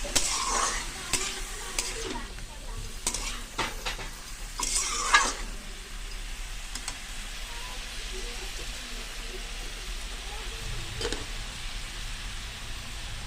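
A spoon stirs mustard masala in a frying pan, with scraping strokes and a soft steady sizzle heard close up, and a few sharper clatters early on.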